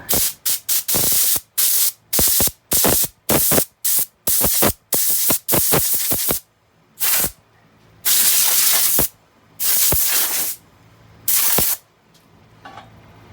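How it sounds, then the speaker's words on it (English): An air hose blasts out a freshly turned, still-warm wooden piece on a lathe in a run of loud, sharp hissing bursts, short rapid puffs at first, then longer sustained blows. "I'm going to take my air hose and I'm going to blow that out."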